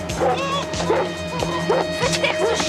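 A dog barks repeatedly in a tense indoor scene, sharp yips and bow-wows arriving in a steady rhythm roughly every half second, loud and close, with a faint background hum.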